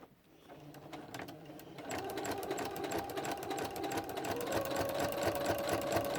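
A domestic sewing machine stitches binding onto a quilt, starting with a few slow clicks and then running in a fast, steady mechanical whir close by, with no talking.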